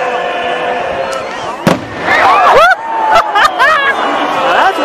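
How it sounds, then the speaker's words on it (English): Fireworks burst at the Zozobra burning in Santa Fe, sharp bangs and crackles with whistling rising shells over the loud chatter of a large outdoor crowd. "That's what I call fireworks."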